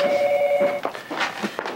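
An electronic telephone ring trills briefly, then stops, followed by a few soft clicks and rustles.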